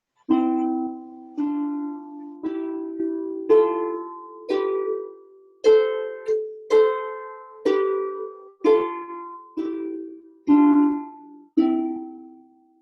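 Harp notes plucked one by one in an even, steady sequence, each ringing and decaying before the next, played alone without speech.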